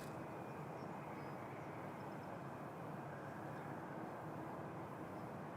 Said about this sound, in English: I think Lot is departing.